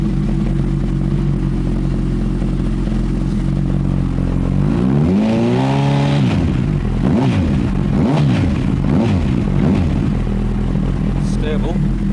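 A Honda CB1000R motorcycle that won't start when hot idles steadily with a deep, even engine drone, blipping up in a couple of brief revs while people talk nearby.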